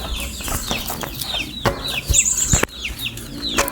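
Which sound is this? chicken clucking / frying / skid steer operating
chicken clucking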